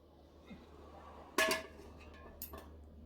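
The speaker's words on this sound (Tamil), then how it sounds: "ஸோ இப்போ நம்ம பாத்திரத்தை வச்சுருவோம்." A single metallic clank as a pot is set down on a stove, followed by a faint clink moments later, in a quiet room with low hum.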